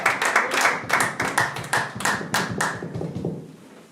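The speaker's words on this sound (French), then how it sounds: "Nous applaudissons pour le Seigneur de gloire." Church congregation clapping together in worship, a loud run of sharp, rhythmic hand claps that gradually thins and fades toward the end.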